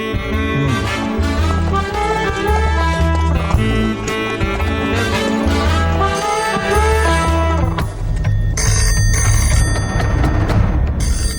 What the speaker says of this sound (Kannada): ಏನ್ ಹೋಗ್ಬೇಕಾದ್ರೆ ಫೋನ್ ಹೊಡಿತಾ ಇದೆ.